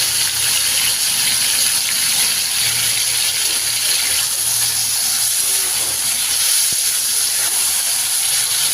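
Pointed gourd (potol) frying in a pan with salt and turmeric, giving a steady loud hiss of sizzling oil that runs unbroken throughout, with no voices.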